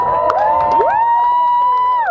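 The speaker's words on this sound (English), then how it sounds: "If you were lucky enough to know Michaela, please give her a big cheer while the couple toast in her honor." Wedding guests cheer and whoop together during a toast, a loud sustained crowd cheer with rising shouted voices.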